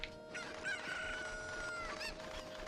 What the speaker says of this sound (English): And we come up here, and we get this chicken.